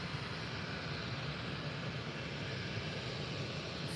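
A United Airlines airliner at Faro Airport, a steady broad engine roar that stays loud and constant throughout, heard from a distance with no voices.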